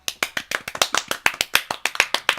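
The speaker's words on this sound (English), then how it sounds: "Aggressive clapping." Hard, aggressive hand clapping, a fast steady run of about twenty sharp, loud, close claps with no voices.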